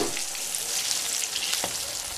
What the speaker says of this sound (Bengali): পটলগুলোকে ভেজে নিয়ে তারপর ফিরে আসছি।